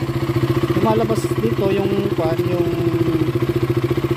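A KTM Duke 200 motorcycle engine idles warm and close by with a steady low throb, as someone talks over it.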